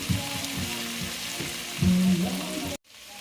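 Potatoes and carrots frying in a pan, a steady close sizzle with scraping stirs and a louder burst near the end before a sudden cut.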